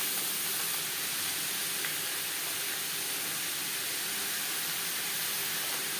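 Ash gourd stirred into a mustard and coconut tempering in a hot pan for Bengali chal kumro ghonto, giving a steady broad sizzling hiss that stays even throughout.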